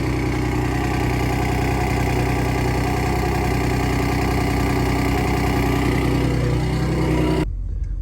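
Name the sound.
Ford Raptor R exhaust rattle while idling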